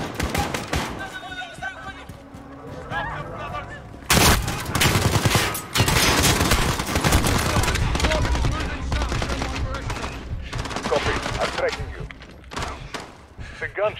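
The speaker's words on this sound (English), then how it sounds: "Gunshots." Rapid bursts of gunfire in the video game Call of Duty: Modern Warfare campaign rattle loudly and almost without pause, with voices talking over the shooting.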